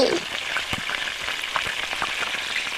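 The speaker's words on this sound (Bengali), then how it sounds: "চুলাটা চালাই দে এবার সব মাংসগুলো এখানে দিয়ে দে এবার নাড়ি তবে সবজিগুলো দিয়ে দে" Meat and vegetables frying in a pan on a stove, a steady close sizzle with scraping stir strokes throughout, no talking.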